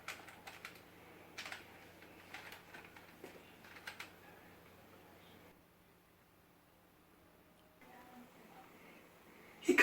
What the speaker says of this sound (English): I'll beat it with the keyboard.